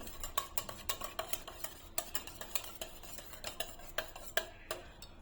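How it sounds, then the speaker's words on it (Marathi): Fresh curd whisked by hand in a bowl with a whisk, a brisk rhythmic series of sharp tapping strokes, close and clear, repeating steadily with no talking. "आता इथं आपण दही फेटण्याच्या सहाय्याने मस्त असं फेटून घ्यायचंय"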